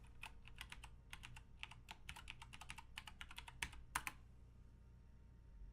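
Someone types a password on a computer keyboard, with quick clusters of sharp, close key clicks, a few short pauses between bursts, and a couple of louder keystrokes near the end in an otherwise quiet room.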